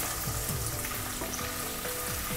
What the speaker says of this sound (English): Saute this nicely. Make sure the ginger garlic turns nice crispy and brown.